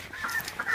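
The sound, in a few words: chickens clucking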